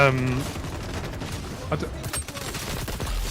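MP7 submachine gun firing in XDefiant on a multiplayer map, rapid bursts of clattering automatic shots against game noise, with someone talking over the shooting.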